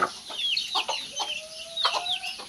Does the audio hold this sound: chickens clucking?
yes